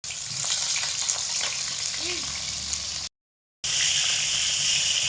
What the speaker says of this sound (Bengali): একই তেলে একই রকমভাবে পটলের পিসগুলোকেও দিয়েও ভেজে নেবো